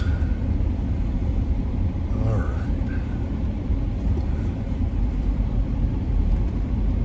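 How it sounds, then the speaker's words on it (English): A car driving along a road in Wellington gives a steady, close low rumble of engine and road noise that stays even throughout, with faint brief sounds above it. "I'm driving Miss Daisy"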